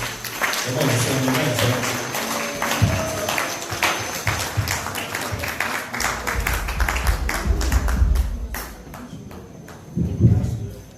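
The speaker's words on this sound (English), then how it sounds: "Let's give him a round of applause." A church congregation at a Sunday service in Hemel Hempstead claps to welcome the head pastor, steady mixed applause from many people with voices and cheers, footsteps and shuffling, and a louder burst near the end.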